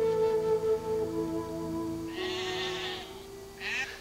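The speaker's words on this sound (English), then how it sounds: "And the sheep, hundreds of them, every last one of them is Herbie's." Sheep bleat in open Irish fields, one long wavering call followed by a couple of shorter bleats at moderate distance, over a low steady hum.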